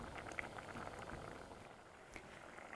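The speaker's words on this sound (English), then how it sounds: "My soup's been boiling and I can see my mangoes are super soft." Mango soup at a steady boil in a pot, with a continuous low bubbling and fine popping texture, close and fairly quiet, with no voices.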